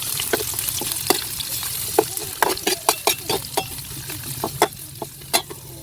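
Food fries in a pan with a steady sizzle while a utensil stirs and scrapes, giving irregular clacks and taps close by.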